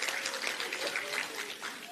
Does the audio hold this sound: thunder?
no